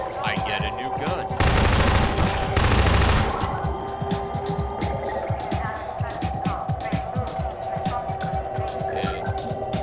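Rapid gunfire in the video game Half-Life 2, a dense stream of sharp shots with a louder burst near the start, continuing steadily throughout.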